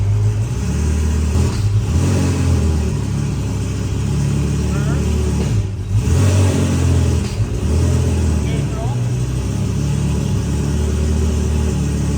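The engine of a twin-turbo UGR Lamborghini Gallardo runs loud and close with a deep, sustained rumble and a few rising revs, while someone talks over it.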